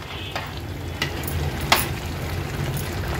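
Spoonfuls of ghee go into a pot of boiling prawn rice, giving a steady bubbling sizzle with a few sharp spoon taps against the pot, close and continuous.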